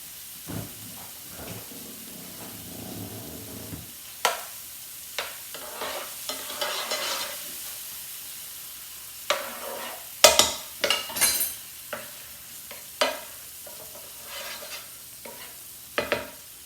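Onions sautéing in butter in a pan, with a soft continuous sizzle under intermittent spoon scrapes and stirring clatter that grows busier midway, close and without voices.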